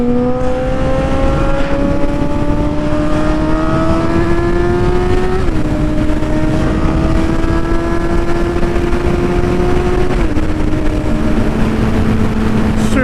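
A car engine revving hard up close, loud and sustained, its pitch climbing steadily and dropping twice, like gear shifts, over a rough, burbling exhaust roar.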